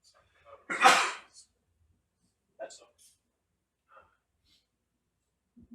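A single loud, close sneeze bursts out near the start, followed by a few quiet scattered sounds and faint voices in a quiet underwater exploration room.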